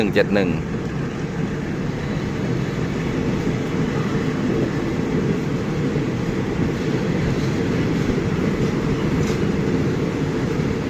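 Thai Railway express train No. 171 passing at Ban Pong on the southern line, a long rake of seven or eight carriages giving a steady, loud continuous rolling rumble with rail clatter throughout, close by.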